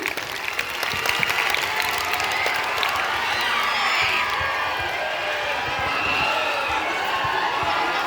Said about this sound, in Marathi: चला टाळ्या हिच्याकरता जबरदस्त